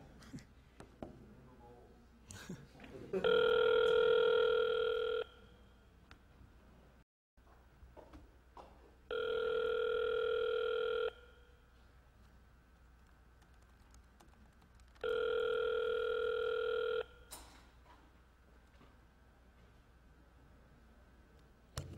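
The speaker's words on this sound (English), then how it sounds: "it's actually calling the second person the first person picked up. That's why the ringing stops." Telephone ringback during a prank phone call: three long, loud rings of about two seconds each, separated by steady pauses, with no voices.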